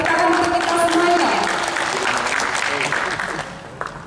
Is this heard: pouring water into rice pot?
no